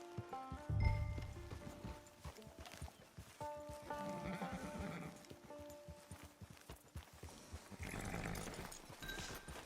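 Horse hooves clip-clop in the Western video game Red Dead Online, a steady rhythmic trot mixed with a whinny and background game music and ambience, with no talk.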